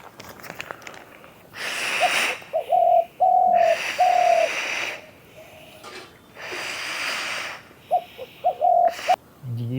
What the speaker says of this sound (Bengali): গুরু পাখির ডাকটা কানে আসতেছে